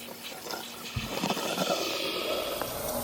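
Cold water splashes and runs as toner rinses out of a blonde synthetic wig, with a steady, moderate flow of rinsing water and a few soft splashes.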